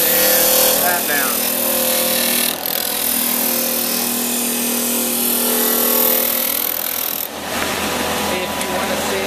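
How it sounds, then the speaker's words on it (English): Power sander working across a longboard skate deck, a loud steady whirring rasp that runs nearly unbroken, with a brief dip midway and a rougher, brighter grinding stretch near the end; a voice speaks over it. "Sand that down."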